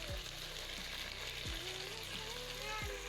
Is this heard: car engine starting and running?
no